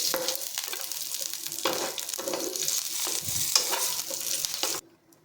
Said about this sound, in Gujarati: ત્યારબાદ મીઠા લીમડાના થોડા પાન નાખીશું અને બેથી ત્રણ લીલા મરચાં નાખીશું